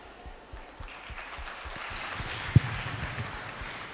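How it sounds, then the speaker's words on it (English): Audience applauding at a school panel event, a modest patter of clapping that swells midway with one sharp thump, moderately near, with no talk. "A round of applause, please."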